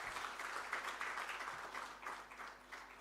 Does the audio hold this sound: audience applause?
yes